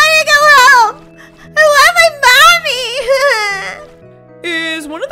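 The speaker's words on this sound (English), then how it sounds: "Is one of the kids crying?" A high-pitched, wailing baby-like cry in a Roblox daycare roleplay, loud and close, coming in several sobbing bursts with short pauses between them.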